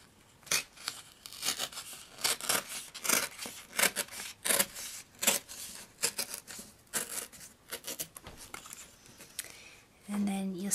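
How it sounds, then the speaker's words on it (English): Paper tearing in a series of short rips down the middle while making a journal cover, with a crinkling rasp at each pull and a brief thud near the end. "I'm going to rip it right down the center"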